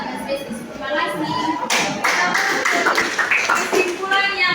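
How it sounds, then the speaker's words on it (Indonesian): Students applaud in a high-school classroom during a practice-teaching lesson, a dense patter of hand claps that swells and holds for a few seconds while a teacher's voice speaks over the start. "Tepuk tangan untuk"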